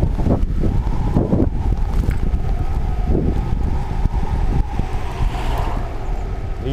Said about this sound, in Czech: Vítr jako ďas